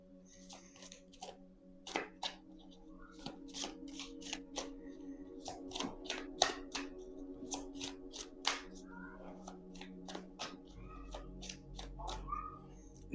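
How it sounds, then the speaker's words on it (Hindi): Tarot cards shuffled by hand in a quiet room, a close series of crisp riffling flicks and soft slaps in irregular bursts, with a faint low hum underneath and no talking. "थोड़ा सा और शफल कर लेते हैं।"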